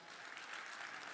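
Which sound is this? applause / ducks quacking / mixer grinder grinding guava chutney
applause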